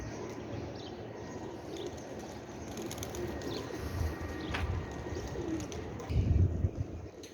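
Shaikhon wale pigeons coo softly and repeatedly at close range, with light chirps and a low background hum around them.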